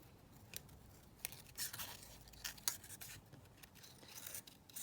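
Scissors snip and slide through paper while cutting out a small paper butterfly for a junk journal craft; quiet, close, irregular cuts with soft rustling.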